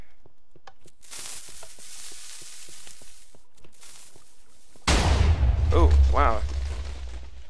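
Minecraft TNT detonating during a castle wars redstone build: a string of sharp pops and thuds, then one heavy, loud booming blast. A voice reacts over the noise.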